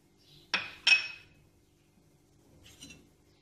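Two sharp clinks of a tablespoon against a bowl or pan as sugar is spooned in for a strawberry coulis, close and clear, followed by a softer faint clatter a moment later.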